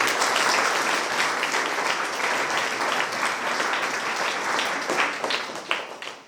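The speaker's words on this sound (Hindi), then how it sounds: "जोरदार तालियों के साथ उन्हें धन्यवाद" Loud, sustained applause from a congregation at a Catholic Mass in Bishrampur, Ranchi archdiocese, thanking visiting priests; many hands clapping densely and steadily, tapering slightly near the end.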